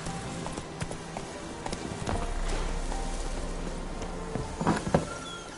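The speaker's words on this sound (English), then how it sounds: "Whoa there, Roach." Horse hooves clip-clop steadily in a video game, moderately loud against a backdrop of ambient music and game sounds, with a brief cluster of sharper hoof strikes near the end.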